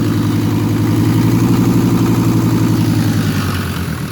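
Mercedes OM602 2.9-litre diesel engine idling, a steady loud rhythmic clatter with a deep even throb, close up and continuous with no talk.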